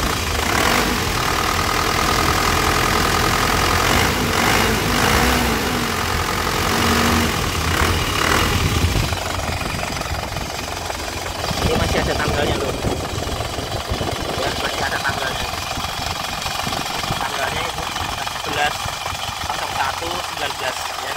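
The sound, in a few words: LS turbo 2019 car engine idling and revving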